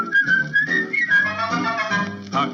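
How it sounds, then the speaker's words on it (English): A person whistles a cheerful, lilting tune alone, clear bright notes gliding and trilling over a soft musical backing, with no words. "Pucker up your lips and whistle at the sunlight."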